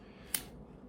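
A single quick snip of scissors cutting the excess thread of a woven crystal bracelet, close and crisp against a quiet background.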